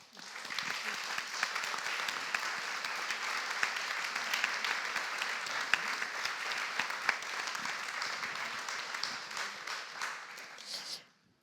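An audience applauds after a talk at a library event, sustained dense clapping for about eleven seconds that stops abruptly at the end.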